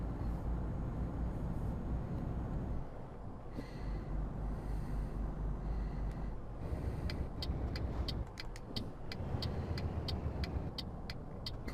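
A Mercedes Actros truck in Euro Truck Simulator 2, hauling 23 tons, drones loudly as its diesel engine pulls through the low gears, with a steady rumble and brief dips and rises between gear changes.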